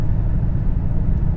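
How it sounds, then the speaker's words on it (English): Steady low exhaust rumble from a 2022 Mercedes AMG GLS 63 cruising, a constant deep drone with no talk over it. "and then you have this rumble on the background"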